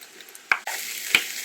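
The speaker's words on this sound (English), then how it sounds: "just fry for a few minutes" Yellow pumpkin with turmeric sizzles steadily in a hot pan, with two sharp utensil clinks against the metal. No one speaks.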